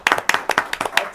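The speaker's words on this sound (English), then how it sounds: "Let's give a round of applause for him." A handful of people clap at a holiday Christmas show, a short burst of sharp, separate claps with an uneven rhythm, close by and fairly loud, with no talking.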